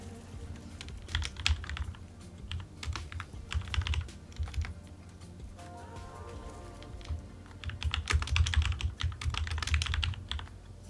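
Notes are typed on a computer keyboard in steady bursts of close, crisp key clicks, with short pauses between runs and no talk.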